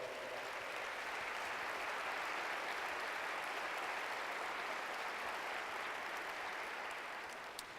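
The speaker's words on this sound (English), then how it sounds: "That deserves a round of applause as well." A steady, even round of audience applause fills a conference hall during an association leader's state-of-the-association speech, sustained and fairly distant, with no talking over it.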